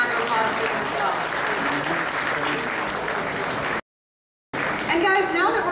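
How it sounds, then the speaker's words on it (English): Sustained applause from a large crowd, loud and continuous, briefly cut off, then resuming with cheering voices mixed in. "Let's hear a warm round of applause for them as well."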